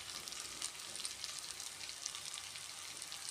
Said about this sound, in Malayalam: ഇതുകൂടെ ഇട്ട് കൊടുക്കാം. ഒന്ന് ഇളക്കണം.